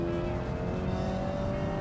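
In the video game Automation, a four-cylinder car drives along a twisty road, its engine holding a steady, close, buzzing drone across the brief stretch.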